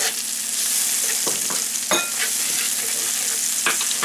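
Garlic and shallot fry in a pan with a steady, close sizzle, broken by a few sharp knocks and scrapes of stirring.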